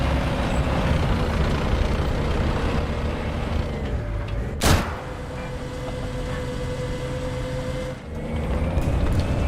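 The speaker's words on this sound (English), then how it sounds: "That turbine engine is distinct in this game." A steady, droning turbine whine from an M1 Abrams tank in War Thunder runs loud and continuous throughout, with one sharp burst near the middle and a brief dip toward the end.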